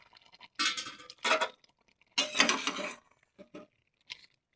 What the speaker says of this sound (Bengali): বন্ধুরা ঢাকনাটা খুলে নেব।